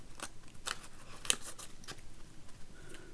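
Scissors cutting off excess paper for an accordion book, a series of sharp snips at an irregular pace, close up with a slightly sticky action, and no talking.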